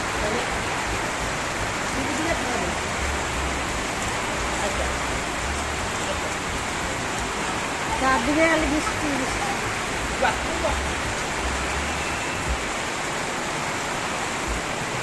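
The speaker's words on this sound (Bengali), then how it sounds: "সুন্দর করে জলগুলো পড়তেছে গাছের মধ্যে টপ টপ টপ টপ" Rain falling steadily through trees under a dark sky, a continuous soft hiss of water with scattered drips, faint and even throughout with no voices.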